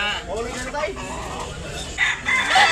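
A derby-size fighting rooster crows at a Cebu cockpit sale, the call close and clear, with people talking in the background.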